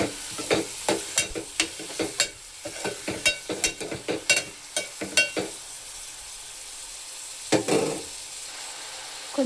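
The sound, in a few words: onion with cumin and fenugreek being stirred and fried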